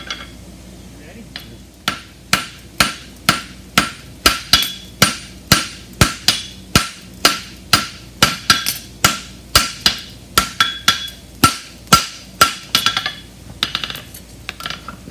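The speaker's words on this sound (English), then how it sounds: "I'm gonna hit with my hammer" Sharp metallic hammer blows on a horseshoe ring out in a steady rhythm, about two dozen strikes close by, with brief pauses between a few runs, while shaping a bar shoe.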